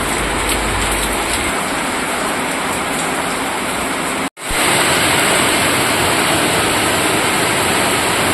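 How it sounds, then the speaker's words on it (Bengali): Heavy rain pours down in a dense, constant roar, briefly interrupted by a sharp cut before the downpour continues just as loudly. "খুব জোরে বৃষ্টি হচ্ছে দেখুন"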